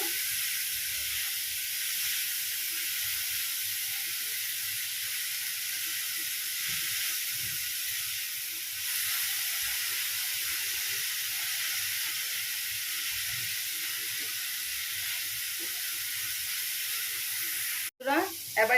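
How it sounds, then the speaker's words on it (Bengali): Rolled flatbread filling cooking in a pan on medium heat, a steady soft hiss of steam and gentle sizzling lasting throughout, close and even, with a brief clatter near the end. "স্টিমটা মিডিয়ামে রেখে রান্না করছি"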